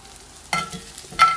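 Chicken fajitas with peppers and onions sizzle in a hot pan over steady high heat, with two loud bursts of crackling sizzle flaring up near the pan, with no talk.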